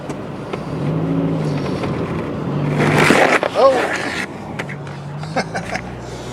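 A Mazda Protégé 5 engine runs rough while driving, a steady, uneven low drone with rising whooshes and bumps from the moving car.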